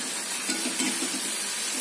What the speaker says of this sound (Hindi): तो ऐसे थोड़ा थोड़ा थोड़ा थोड़ा डाल के हमको फ्राई कर लेना है